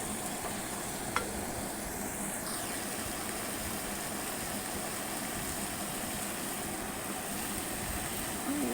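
Meat and raw potatoes frying in a pan, giving a steady, even sizzle that runs the whole time, with a light clink near the start and no talk.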